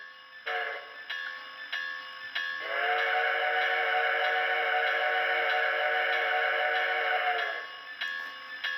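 A quick whistle toot, then a longer sustained whistle blast over a steady ringing bell that ticks on in the background, from a model train locomotive's sound system.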